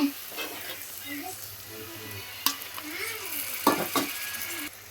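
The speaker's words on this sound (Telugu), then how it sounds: "చూసారా ఎగ్స్ కూడా వేసి నేను కలిపేసుకున్నాను" Eggs fry and get stirred in a hot pan for an egg fry dish, with a steady sizzle broken by sharp scraping and clinking strokes of the utensil. A voice murmurs faintly underneath.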